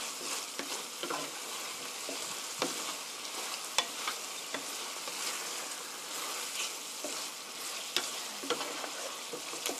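Chicken and mushrooms stir-fried in a pan with a little sesame oil, giving a steady, close sizzle with repeated spatula scrapes and clicks throughout, no voices.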